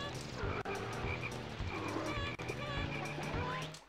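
Frog croaking in the Diddy Kong Racing video game: a string of rhythmic, fairly loud croaks repeating steadily throughout, layered over other game sounds.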